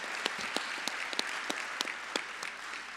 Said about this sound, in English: Let's give moms and dads and family members a big round of applause.